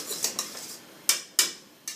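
Metal spoon scraping and clinking against a bowl while stirring rouille whipped cream seasoned with paprika, several short bright clicks, close and alone.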